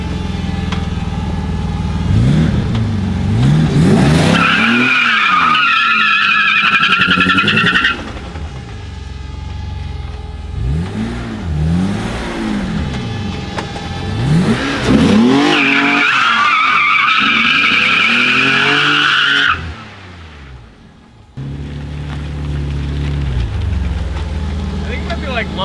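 A BMW E34 with a V12 engine revs hard as its front tires break loose and squeal, with two long loud bursts of tire screech over a rising and falling engine note.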